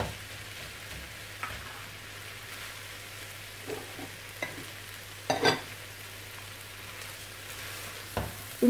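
Quiet scraping and clinking of a spoon stirring rice with salt, cinnamon and spices in a pot, soft sizzle beneath and a few sharper knocks against the pot.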